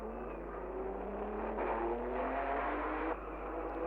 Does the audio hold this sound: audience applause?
no